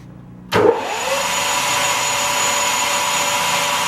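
Bridgeport Romi lathe starting up and spinning at 1120 RPM, a sudden motor surge that settles into a steady, loud mechanical whine and hum.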